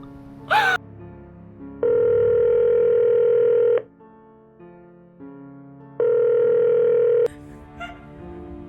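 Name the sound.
telephone dial tone after caller hangs up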